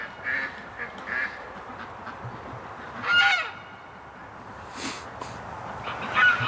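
Stripper Duck, a flock duck kept alone outdoors in winter, gives a few short, scattered quacks at moderate distance over quiet background noise.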